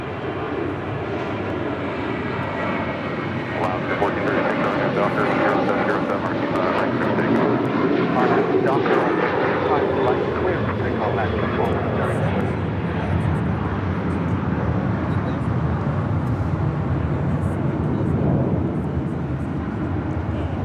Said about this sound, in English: Air Premier, the Dreamliner, about to make that left-hand turn onto Lima